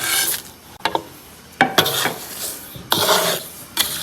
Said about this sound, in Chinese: 小火慢炒，这个炒这个盐嘛，应该不停的翻